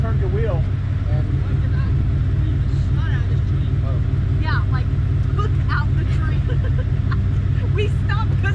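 A car stuck in a creek revs hard and steadily, a loud continuous engine drone running throughout, with excited voices talking over it.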